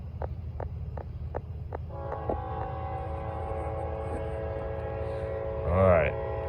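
A Norfolk Southern freight train passes with a steady rumble and wheel clatter; rhythmic clicks come first, then a long multi-tone horn blast rises and swells loudly before fading, with a voice speaking briefly.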